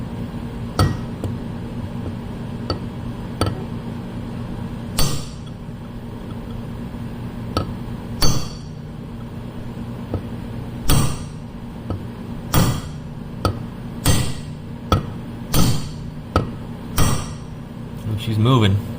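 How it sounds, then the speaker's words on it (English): Hammer blows on a chisel driven against a stuck injector during a Fischer Panda generator cooling system repair on a Grady-White boat: sharp metallic strikes, sparse at first, then a quicker run of loud close hits toward the end. "So I'm gonna grab a hammer and a chisel and we'll go to town here."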